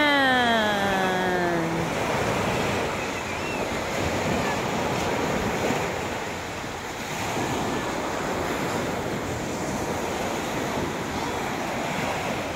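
Sea waves wash steadily onto a beach shore in a continuous broad roar, with wind across the mic and a brief voice at the start.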